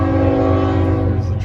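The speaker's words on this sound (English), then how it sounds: "Here's the train, of course." A train rumbles past with a loud, steady low drone and sustained tonal hum, close and continuous, on an autumn walk among trees.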